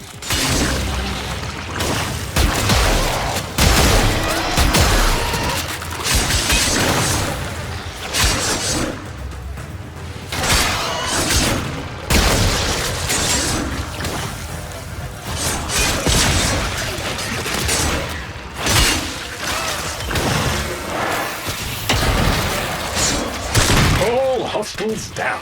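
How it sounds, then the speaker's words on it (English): Heavy weapon fire pounds an alien hive during the Heart of Deimos quest, with dense booming and crashing impacts and shattering bursts that continue almost without pause. A voice speaks over the din of the fight. "Hive located. Destroy it with weapon fire."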